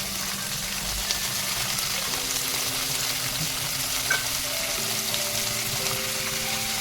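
Washed potato pieces fry in a hot tempering of oil with curry leaves, producing a constant close sizzle with occasional light crackles and stirring sounds, and no voices.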